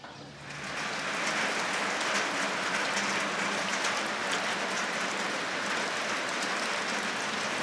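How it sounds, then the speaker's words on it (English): Steady rain falls over St. Ann's valley near Port-of-Spain, a dense, continuous hiss of drops on surfaces that swells in within the first second and then holds evenly, with no voices. "you can see, it is raining and it is still very beautiful"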